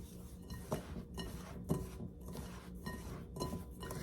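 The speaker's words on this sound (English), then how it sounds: "I'm just going to get in there with my hands and just really get it mixed in." Peppermint bath salts mixed by hand in a bowl, giving soft gritty rubbing and scraping with light clinks against the bowl, steady and close, with no talk.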